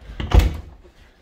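A closet door in a bedroom of a house gives a single short wooden thud as it moves, close and fairly loud, fading quickly into quiet.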